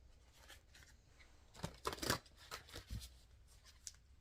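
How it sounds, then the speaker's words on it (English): A deck of oracle cards, a Therapets deck, is shuffled by hand in quick soft riffling and rustling bursts, close and quiet, heaviest midway through. "So we're going to give a quick shuffle."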